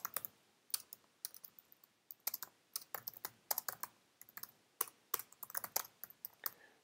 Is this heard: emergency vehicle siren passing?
no